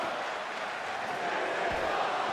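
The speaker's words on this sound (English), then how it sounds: "Crowd is loving it." A wrestling-show crowd gives a steady wash of cheering and noise that swells slightly toward the end, with no clear single voice standing out.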